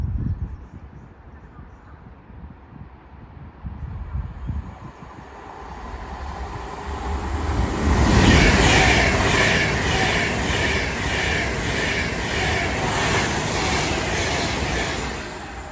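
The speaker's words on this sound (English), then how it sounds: "Soon to pass through now will be Avanti West Coast service going from London Euston to Liverpool Lime Street" An Avanti West Coast express from London Euston to Liverpool Lime Street passing through Watford Junction on the West Coast Main Line, building from a distant rumble to a loud, sustained roar of wheels and carriages rushing close by.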